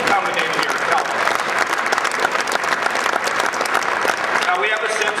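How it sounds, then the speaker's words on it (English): Steady audience applause fills a hall at an Ohio Farm Bureau event where a politician is giving a speech, a dense continuous patter of clapping hands lasting throughout without a break. "Well, then how about some applause?"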